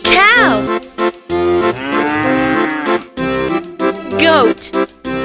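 Cattle moo in several long, loud calls with rising and falling pitch, separated by short pauses, close up and clear, with no speech over them.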